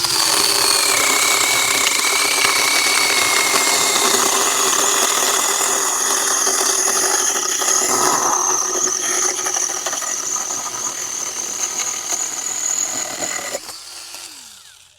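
An EWORK mini cordless chainsaw cuts through fresh wood branches outdoors, a loud, steady high-pitched motor whine that holds through the cut and drops away abruptly near the end, with no talk.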